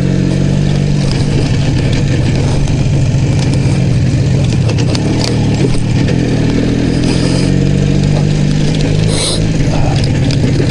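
An IZh Jupiter 5 motorcycle engine runs steadily and loud throughout, a continuous low mechanical drone with the clutch pulled and gear engaged, no talk over it.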